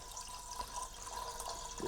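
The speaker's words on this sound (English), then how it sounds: "Just leave the bottle in the pot, and we need to add water." Water trickles and splashes faintly into a pot holding a bottle, set up as a water bath for an herbal oil infusion, a soft continuous pour with small drips.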